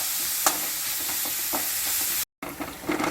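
Mutton liver roast is stirred as it fries in a pan, with a steady close sizzle and occasional spoon scrapes, then a brief dropout before the frying and stirring carry on.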